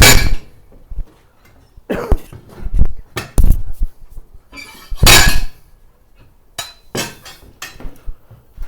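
Sharp metal hammer strikes in a home garage while working on a 1961 Ford Econoline, landing in uneven bursts of several loud clanking hits with short pauses between.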